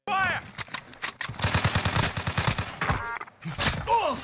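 Rapid bursts of video game gunfire in Warzone, including shotgun-style blasts and quick automatic volleys, ring out loud and close across the whole stretch with a brief lull, while faint voices talk underneath.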